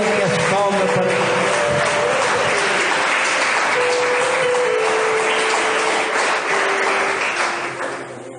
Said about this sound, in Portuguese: vamos receber o homem de Deus com palmas bem contente e bem alegre